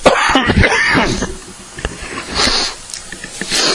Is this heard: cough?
yes